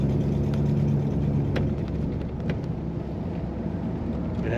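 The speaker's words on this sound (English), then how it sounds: "It has that Cadillac rumble." A 1958 Cadillac Series 62 Hardtop Sedan engine rumbles steadily while driving, a low continuous drone with a few faint clicks and no speech.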